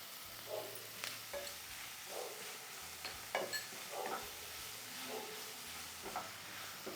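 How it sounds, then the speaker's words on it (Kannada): Onions with a pinch of salt sauté in a pan for a Tumkur-style avarekalu usli, giving a soft, steady sizzle with a run of light stirring scrapes and taps at a moderate distance, no voices. "ಸ್ವಲ್ಪ ಈರುಳ್ಳಿ ಬಾಡಕ್ಕೆ ಸ್ವಲ್ಪ ಉಪ್ಪು ಹಾಕಿರ್ತೀನಿ"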